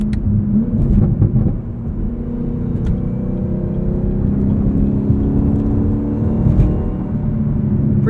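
A 2022 Chevrolet Camaro ZL1 1LE with a 10-speed automatic drives steadily, its low engine drone and road rumble holding close and continuous with slight swells under throttle.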